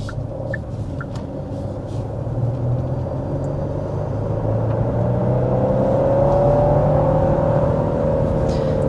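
A 2026 Genesis GV70 with a 3.5-liter twin-turbo engine accelerates, heard from inside as a steady low engine hum and road rumble that swells gradually with rising pitch.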